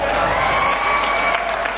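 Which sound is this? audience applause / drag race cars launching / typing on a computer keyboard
audience applause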